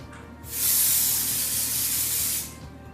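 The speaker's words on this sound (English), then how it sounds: "Now we're going to finish off with some hairspray." Hairspray sprays onto a man's hair from the bottom up, starting at the fringe, in one continuous loud hissing burst of about two seconds that begins and stops abruptly.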